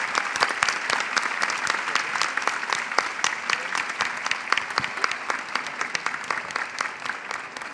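A seated audience at the Rio book fair's trans literature session claps in a steady, dense round of applause, close and sustained from start to finish.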